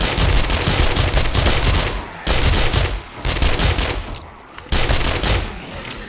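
Rapid automatic gunfire in the zombie game 7 Days to Die, loud bursts of dense shots separated by short pauses, five or so sustained volleys with no voices.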